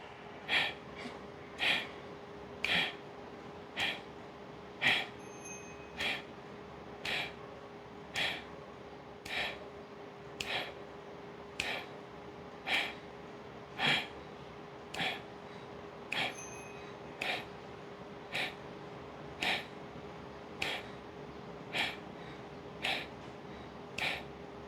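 Kapalabhati pranayama breathing: sharp, forceful nasal exhalations repeat at a steady pace of roughly one per second, about twenty in a row, close and distinct over a quiet background hum.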